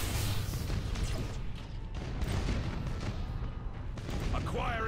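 Starship guns fire in the space battle game Battlefleet Gothic Armada as a dense, continuous barrage of booming cannon blasts and rumbling impacts, loud and layered, with a voice talking over it.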